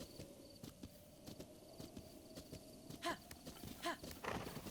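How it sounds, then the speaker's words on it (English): A horse in the video game Breath of the Wild clip-clops with rapid, fairly quiet hoofbeats, and a couple of brief whinny-like bursts stand out toward the end. "You know, horse, you seem cool. Let's go stable you."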